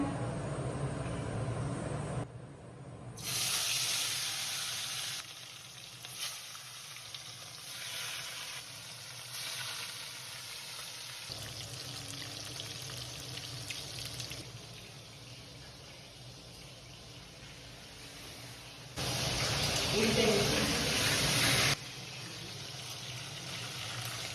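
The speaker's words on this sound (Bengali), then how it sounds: "তেলটা গরম হয়ে গেছে এখন আমি মাছগুলোকে দিয়ে দিচ্ছি" Shol fish (snakehead) frying in hot mustard oil, a steady broadband sizzle with surges and a louder burst near the end, no talk.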